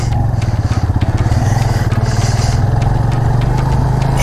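A parked motorcycle idles beside a highway in Pakistan, its engine thumping in a steady, even rhythm. The sound is close and loud, with faint traffic noise in the background and no talk.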